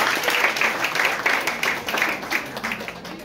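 Wedding guests applaud a newly declared married couple at a church nuptial ceremony, a dense steady patter of many hands clapping at close range, with no speech over it.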